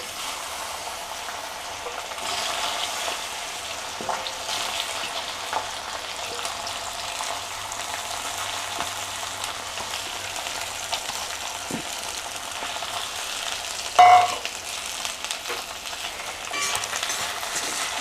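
Ivy gourd (dondakaya) frying in a little hot oil, a moderate, steady sizzle running throughout with occasional utensil knocks and one brief sharp clatter near the end, with no talking.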